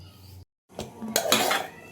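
Metal spoon scraping and clinking against a cooking pot of thickened cauliflower dhokli curry, a short pause, then busier stirring and scraping that grows louder toward the end.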